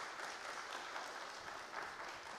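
Brief, fairly faint applause from a conference audience: a continuous patter of many hands clapping at an even level, with no voices standing out.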